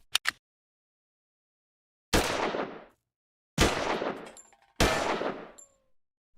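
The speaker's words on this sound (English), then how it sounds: "Let's try to take a 9mm pistol." A 9mm Parabellum pistol fires at cans: a faint double click, then three loud, sharp reports with ringing tails, spaced about a second apart, with no talk.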